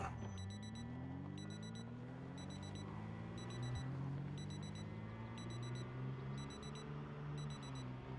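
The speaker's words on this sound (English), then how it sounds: "I really need this alarm to stop." A repeating electronic alarm rings in the survival video game Project Zomboid, sounding as regular high beeping bursts about every second over a continuous low droning hum, steady and fairly quiet throughout.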